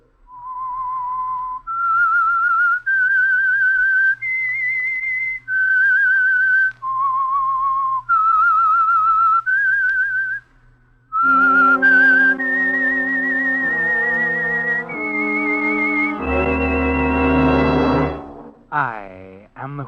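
A whistled tune of sustained notes, then joined by an orchestral fanfare that swells loudly before ending with a rising, wavering flourish.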